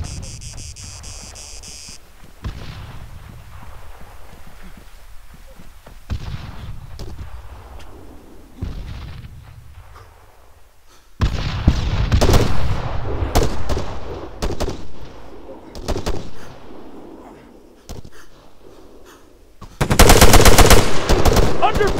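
Bursts of automatic and single-shot gunfire in ArmA 3 multiplayer combat, loud and close, with quieter stretches between volleys and a heavy final burst.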